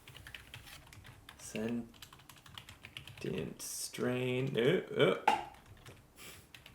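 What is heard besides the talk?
typing on a computer keyboard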